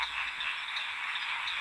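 Male Amberhetra frogs calling in mating season form a dense chorus of high, buzzing croaks with repeated rhythmic pulses, fairly faint and continuous.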